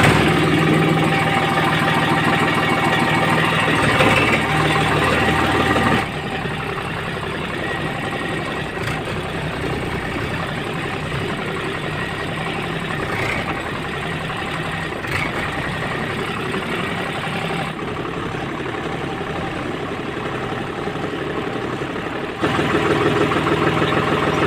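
A tractor engine idles steadily with a loud, continuous mid-range rumble and a faint knocking beat, briefly louder at the start and end, with no voices.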